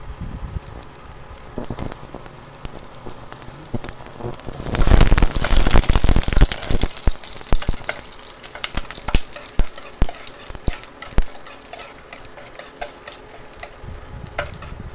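Food hits a hot pan and bursts into loud, crackling sizzle, which settles into intermittent popping and scraping as it fries close by, with no talking.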